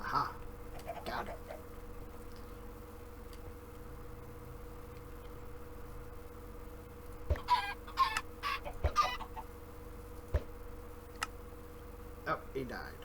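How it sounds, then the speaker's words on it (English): Chickens cluck in short scattered bursts over a low steady hum in the video game Minecraft, some calls close and sharp, others softer in the background. "I hate these chickens sometimes."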